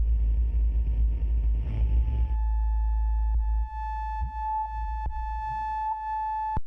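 A steady synthesized tone holds with a rough, grainy noise layer at first, then thins to clean sustained pitches with a few brief chirps and clicks.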